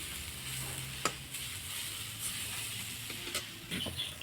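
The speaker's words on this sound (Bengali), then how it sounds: "নারকেল ভাজা ভাজা হয়ে গেছে, এবার তুলে নিব।" Grated coconut frying in a pan for chitoi pitha, a quiet steady sizzle with occasional sharp stirring scrapes, no voices.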